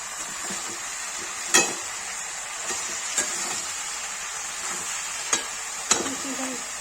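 Onion and garlic paste sizzling softly in a pan while being stirred, with a steady low fry and a few sharp clinks of the spoon against the pan, close and fairly quiet, as part of making a fried potato and parwal dish.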